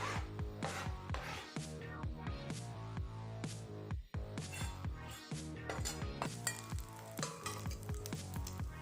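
Bacon crisps in a cast iron pan with a continuous fine sizzle and crackle, punctuated by repeated clinks and scrapes of a utensil against the pan, close and fairly quiet throughout.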